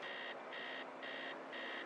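Faint electronic buzzing of an alarm clock going off inside a building, four regular pulsed beeps with short gaps, muffled and distant against a constant low hiss.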